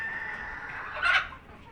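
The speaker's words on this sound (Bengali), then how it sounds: "এ দেখেন আমাদের টাইগার মুরগি" A Tiger breed hen on a farm gives a short, rising cluck-like call, near and moderately loud, over quiet background hum, with no one talking.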